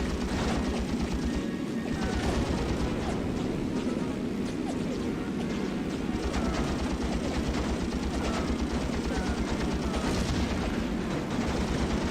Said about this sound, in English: Stop shooting me, jeez!